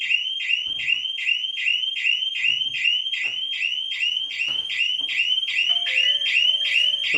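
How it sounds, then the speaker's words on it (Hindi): A PIR home security system alarm sounds, a loud, rapidly repeating electronic chirping tone that keeps a fast even rhythm throughout, with faint beeps and clicks underneath. "जब भी डोर खुलेगा, विद इन 5 सेकेंड या विद इन 2 सेकेंड अलार्म करेगा"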